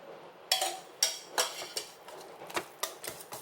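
A spoon works mashed banana into banana bread batter in a bowl, giving about eight distinct close clinks and scrapes in an uneven stirring rhythm, with no talk.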